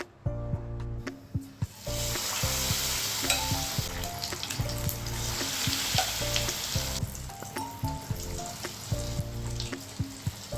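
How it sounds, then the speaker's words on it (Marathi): Batter-coated vada for Mumbai vada pav frying in hot oil, a steady, loud sizzle and crackle that runs throughout with occasional clinks and stirring knocks from a spoon, no talking. "आता हा वडा आपण बॅटरमध्ये घालून घेऊयात आणि तो चमच्याच्या साह्याने तेलामध्ये सोडूयात"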